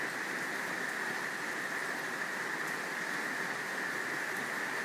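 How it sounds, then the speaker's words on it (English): Steady rain, the first of the season, falls in an even, unbroken hiss on surfaces nearby, moderately quiet and without voices. "This is like the first rain of like the season."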